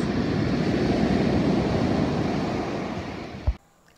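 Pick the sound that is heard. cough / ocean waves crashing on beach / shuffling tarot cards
ocean waves crashing on beach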